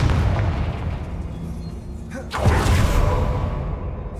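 A Confringo blasting spell explodes in the video game Hogwarts Legacy: a single loud, broad boom erupts partway through and rumbles on over steady background noise.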